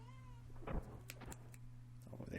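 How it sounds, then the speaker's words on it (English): A house cat, Misty, meows faintly in the room, a couple of short mews over a low steady hum, with a soft thunk nearby. "A cat walked into the room at the same time that happened."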